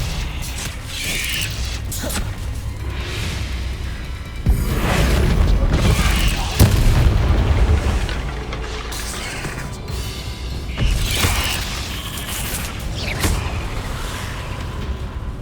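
Fiery blasts from the Incendio spell cast in Hogwarts Legacy, heavy booming bursts landing every few seconds over a steady rumbling game soundscape with rattling mechanical noise.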